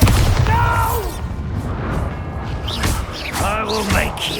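A Bombarda blasting spell explodes in the video game Hogwarts Legacy. Heavy, booming bursts land in quick succession, with a crackling magical whoosh and lingering rumble between the hits.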